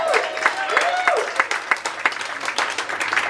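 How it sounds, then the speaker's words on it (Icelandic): Audience applause at a stand-up comedy show, moderate clapping with a few sharp individual claps standing out and a voice heard briefly at the start. "gefum honum góð klapp"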